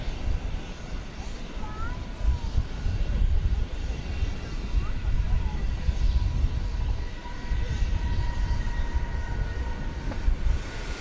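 An American Airlines Airbus A319 arrives at DFW Airport at night with a steady, broad jet roar and a faint whine on top, heard from nearby throughout.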